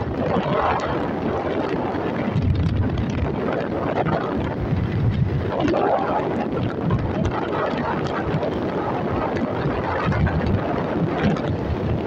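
Strong wind on the Padma Bridge, a steady roaring rush of air buffeting the microphone for the whole stretch, loud and unbroken with no talking.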